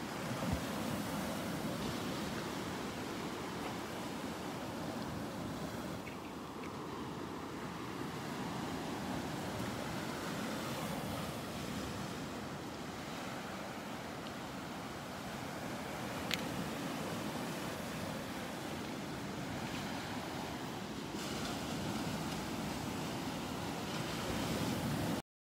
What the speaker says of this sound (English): love watching the waves come in around this old dead tree.